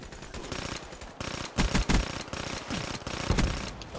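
Burst-fire gun shooting in the video game Call of Duty Black Ops 3, a dense, loud run of rapid clustered shots with punchy peaks repeating through the short stretch, with no speech.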